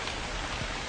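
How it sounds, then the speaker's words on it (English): Rain in a horror video game falls as a steady, dense hiss of drops, constant and fairly loud. "The rain is raining."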